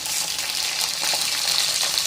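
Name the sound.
green chillies and tomatoes added to sizzling onions in fish curry pan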